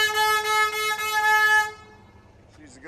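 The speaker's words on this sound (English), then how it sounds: "She just honked her horn because she needs to go." A car horn honks at a truck, a loud sustained blare lasting about a second and a half with slight pulsing, then cutting off to low engine rumble.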